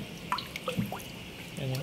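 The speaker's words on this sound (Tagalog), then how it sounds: "Iba na yung tunog ng tubig Ibig sabihin yan, malapot na siya." Thick, cooked industrial glue pours with a few soft, heavy plops and drips in quick succession over a low background hum.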